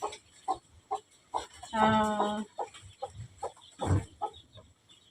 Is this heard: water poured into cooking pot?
no